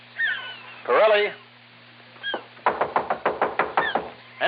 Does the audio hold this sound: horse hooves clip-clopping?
no